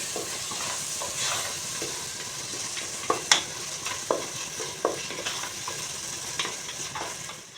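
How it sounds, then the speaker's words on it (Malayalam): Tomatoes sautéing in a pan for a tapioca biryani, a steady close sizzle broken by repeated rhythmic spatula scrapes and taps, no voices. "ഇത് നല്ലപോലെ ഇളക്കി കൊടുക്കണം തക്കാളി വാട്ടിയെടുക്കണം"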